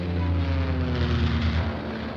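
A propeller airplane's engine drones in flight, a loud, steady, unbroken roar with a throbbing low hum and no voices.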